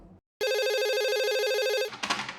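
An old-style telephone in an abandoned hotel rings once in a single sustained electronic trill lasting about a second and a half, loud and close, after a short silence, followed by a brief clatter as it stops.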